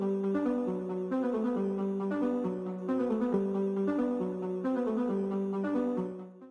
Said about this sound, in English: I found this cool little ARP sound within it.